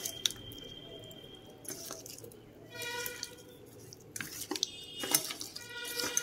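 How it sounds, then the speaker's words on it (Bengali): Fish being rubbed by hand with salt and turmeric powder in a metal bowl, giving soft wet squishes broken by sharp clinks and scrapes against the bowl, close and intermittent, with no talk. "লবণ আর হলুদ গুঁড়ো দিয়ে মাছ ভালো করে মাখিয়ে নিচ্ছি।"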